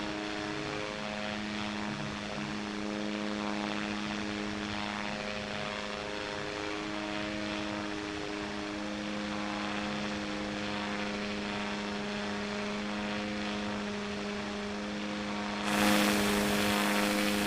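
Aircraft engine in the QWOP-style flight game Ez Riser, a steady droning propeller hum with layered tonal whine throughout, rising into a louder, brighter roar near the end, with no talking.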